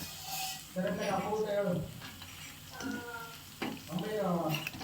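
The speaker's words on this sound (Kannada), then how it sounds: "ಎಣ್ಣೆಲಿ ಚೆನ್ನಾಗಿ ಡ್ರೈ ಆಯಿತು ಗೋಬಿ" Gobi (cauliflower) pieces sizzle in hot oil, a moderate crackling fry heard up close beneath intermittent talking.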